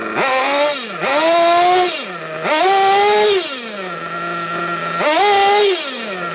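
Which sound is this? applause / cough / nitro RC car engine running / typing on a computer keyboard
nitro RC car engine running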